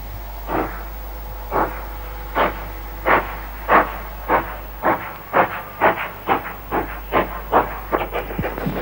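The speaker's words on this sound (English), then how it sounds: "The lunchtime train waits hopefully for custom before departing for Denby" A steam locomotive on the Mold to Ruthin line chuffs with regular exhaust beats, slow at first and gradually quickening as it pulls away, with a constant low hum underneath.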